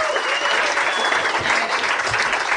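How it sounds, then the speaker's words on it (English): A live audience at a comedy podcast show bursts into steady applause, close and full, with a few scattered voices calling out within the clapping. "We should pause our campaign there and give Spencer his due in applause for him"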